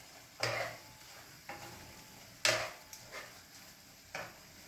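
Shrimp stirred through sauce in a pan as part of a flambéed shrimp dish: a few separate soft scraping and sloshing strokes, close and fairly quiet, spaced a second or two apart over a faint sizzle.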